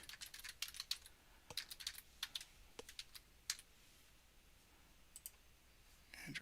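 Keys on a computer keyboard are typed in short bursts of quick, crisp clicks, fairly close and quiet, with brief pauses between bursts and a final cluster at the end.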